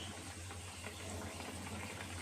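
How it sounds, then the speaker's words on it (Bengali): Curry broth bubbling steadily in a pan while cooking a banana-flower dish, a soft continuous simmer with a low hum beneath and no voices. "ঝোলটা আমি আর বেশি ফোটাবো না"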